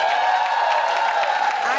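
An audience at a women's event gives steady applause with some cheering, a dense continuous clatter of many hands, loud and sustained, with voices mixed in.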